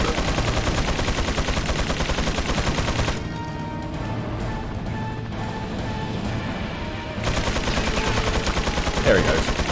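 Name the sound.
gunfire shooting an enemy in the Resident Evil 4 video game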